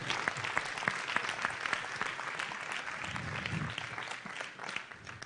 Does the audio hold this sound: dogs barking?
no